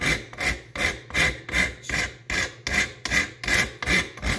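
Coarse grit abrades wooden knife scales in steady back-and-forth strokes, about eleven rhythmic rasping passes, close and fairly loud with no talking.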